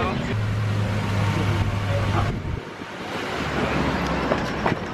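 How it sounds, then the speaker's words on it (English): A tram ride up a hill in a Chinese city, heard from inside as a low, steady motor hum and rumble that drops off partway, with people talking over it. "We're currently in a tram because you can either walk back up or take a tram"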